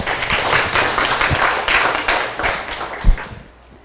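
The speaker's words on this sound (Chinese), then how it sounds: "请大家用热烈的掌声欢迎" An audience at a lecture claps to welcome the speaker, dense, close applause from many hands that holds steady and then thins out and fades at the end.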